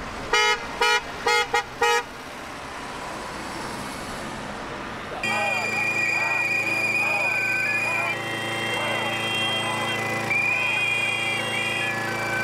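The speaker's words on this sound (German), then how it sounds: "Mit Schildern wurde zum Hupen aufgefordert, um den Protest Ausdruck zu verleihen." Passing cars honk in support of a street protest against Nazis in Teltow. A cluster of short toots comes first, then longer sustained horn blasts sound over traffic noise.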